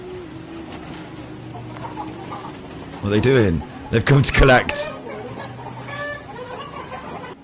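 Chickens cluck and squawk in street baskets while people talk nearby, with a louder burst of flapping and agitated calls in the middle of the scene.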